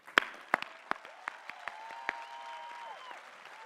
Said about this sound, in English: Please recognize the Doctors of Philosophy with our hearty congratulations and applause.